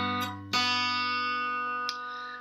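Open second string of a fingerstyle acoustic guitar plucked on its own, heard as a couple of clear, separate picks. Each one rings out and decays gently over an earlier fading tone.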